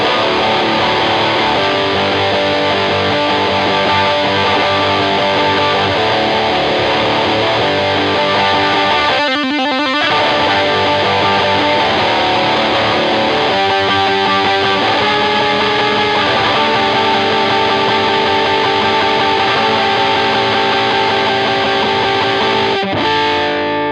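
A heavily overdriven electric guitar plays a rock-style chorus, loud and dense throughout, with sustained distorted chords over a driving backing and one brief stuttering break midway.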